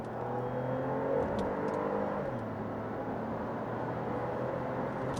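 A 2014 Opel Insignia OPC accelerates hard from 60 to 120, its engine note climbing in pitch and shifting gear, heard from inside the cabin as a steady loud drone with no talking.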